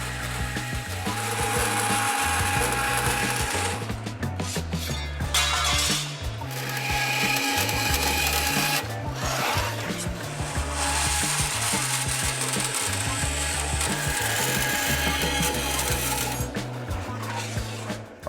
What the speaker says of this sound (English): We'll trace our patterns out on a piece of 16-gauge sheet steel and then just trim it to fit.